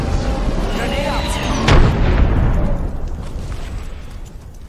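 Grenade detonating in Apex Legends, a single loud boom that rolls off into a long rumbling decay, with faint game effects before it.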